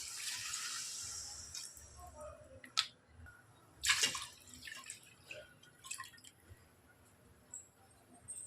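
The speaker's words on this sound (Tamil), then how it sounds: "இப்போ ஒரு படிக்கு 2 படி தண்ணி ஊற்றுறோம்." Water is poured into a pot of masala-coated chicken for Dindigul-style seeraga samba chicken biryani, a splashing stream that fades into scattered drips and clinks.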